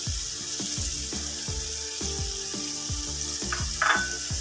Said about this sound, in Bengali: 1/2 কাপ পরিমাণে পানি দিয়ে দিলাম